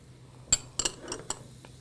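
Several light metallic clinks against a pan, three or four quick taps with short gaps, close and fairly quiet.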